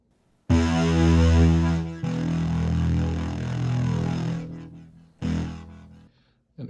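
Two wide unison synth layers stacked in FL Studio ring out as a thick, sustained tone, loud and alone, with a short gap near the end before the chord restarts.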